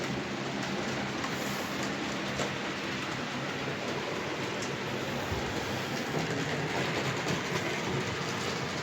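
A model train races over the points at very high speed, a dense, continuous rushing rattle with fine clicking that stays loud and close throughout.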